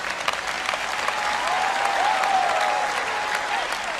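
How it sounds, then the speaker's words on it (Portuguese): An audience at a Christian preaching event claps steadily for a few seconds, a dense, moderately distant wash of applause that stays even throughout. "Agora você aplaudiu?"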